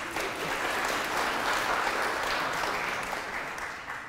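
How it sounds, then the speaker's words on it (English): Lecture audience clapping at a talk on boycotting Israel, a dense burst of applause from a crowd of many hands, steady and sustained for several seconds before tapering off. "those of you who are clapping"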